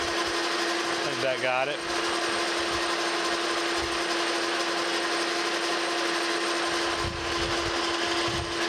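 A metal lathe steadily hums while facing the end of a vise guide rod, a loud continuous machining drone with a brief tonal squeal, and a voice speaks briefly over it.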